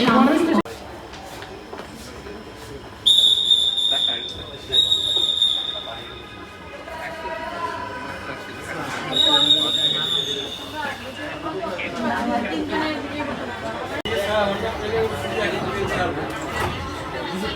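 Inside a Dhaka metro rail carriage heading to Uttara North, a low running rumble carries on beneath loud nearby talk, with several bright electronic chime tones sounding early on.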